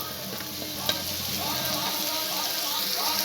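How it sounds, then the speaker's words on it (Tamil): Wheat flour and onion snacks deep-frying in hot oil, a steady close sizzle with a brief clink of a utensil near the start. "நம்ம செஞ்சு வச்சதை இதில் பொரிச்சு எடுத்துக்கலாம்."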